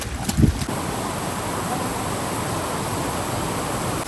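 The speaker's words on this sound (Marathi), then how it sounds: "पावसामुळे नीट व्हिडिओ येत नाहीत कारण की पाणी नुसतं कॅमेरावर पडतोय" Rainwater falls straight onto a camera during a wet trek to Paleshwar waterfall, making a constant close rushing hiss, with a few soft thumps at the start.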